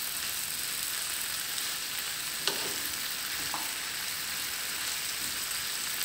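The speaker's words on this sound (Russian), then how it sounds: "Все, пусть жарится, я не трогаю." Potatoes frying in oil in a pan make a steady, dense sizzle that runs throughout without talk, broken only by a couple of faint clicks.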